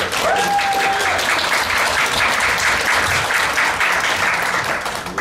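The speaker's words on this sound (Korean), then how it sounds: "여러분 큰 박수로." A crowd at a policy forum applauds loudly and steadily for several seconds, dense clapping that holds even before tapering slightly at the end.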